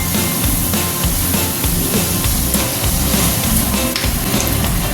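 Chilli chicken sizzles and is stirred in a pan over low heat, a loud, steady frying crackle with scraping stir strokes throughout.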